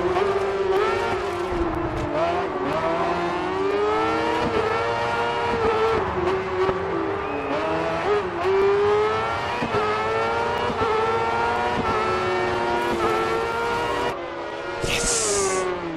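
A crosskart's high-revving engine snarls through a final lap in DiRT 4, a steady buzzing whine that climbs and dips with gear changes and corners, loud and continuous with a brief hiss near the end.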